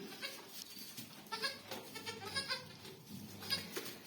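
Goat bleating on a farm just after giving birth, repeated soft bleats heard faintly among low background noise.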